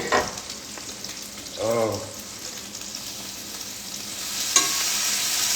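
Fatty bacon frying in a pan gives a steady close sizzle, with a brief exclamation and a short spoken word over it.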